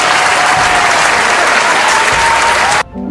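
Loud, sustained applause from a crowd at a gathering honoring Pastor Sadak Sirius, dense clapping filling the room for nearly three seconds before cutting off abruptly.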